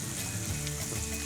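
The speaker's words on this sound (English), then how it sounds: "I'm just going to start off the onions real quick with" Onions fry in grapeseed oil in a pan, giving a dense, even sizzle that stays loud and steady throughout the short stretch.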